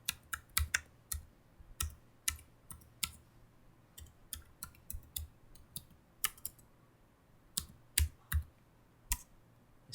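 Quick, uneven keystrokes on a computer keyboard while Java code is typed, sharp close clicks in bursts with short pauses, no talking.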